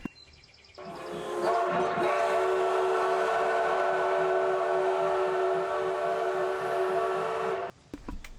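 A hype train alert on a live stream plays as a train sound effect, with a sustained steam-whistle-like blast and rumbling rail noise, loud and continuous for several seconds before cutting off.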